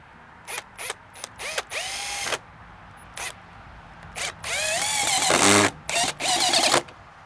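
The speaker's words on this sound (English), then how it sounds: "I'm gonna drill these in and hold its spot" A power drill driving screws to fix round inset spindles of a stair rail on a deck, in short repeated whirring bursts that rise and fall in pitch, ending with one longer, louder run, close by.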